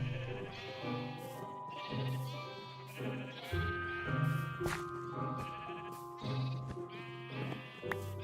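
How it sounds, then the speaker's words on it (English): Sheep in the Minecraft video game bleat in a rapid series of wavering cries, close and clear, several overlapping calls spaced about a second apart, with no talk. "Come, little sheep, come."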